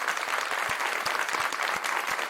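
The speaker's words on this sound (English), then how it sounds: "Give her a round of applause" Audience applauding the founder of Black Baby Books at a panel discussion, a lively burst of many hands clapping with some louder individual claps standing out, steady throughout.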